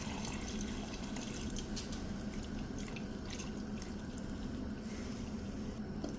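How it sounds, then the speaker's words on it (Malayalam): Half a cup of water is poured into a pan of simmering chicken curry, giving a steady splashing, trickling pour that runs unbroken at a moderate, close level. "ഞാൻ ഒരു 1/2 കപ്പ് വെള്ളം ഇതിലേക്ക് ചേർത്ത് കൊടുക്കുന്നു"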